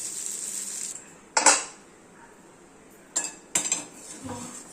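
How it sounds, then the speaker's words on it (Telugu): A metal lid clanks onto a pan cooking debba rotti over a low flame: one loud clatter, then a pause before two more rattling knocks, close by with no talking. "దీని మీద మూత పెట్టాలి"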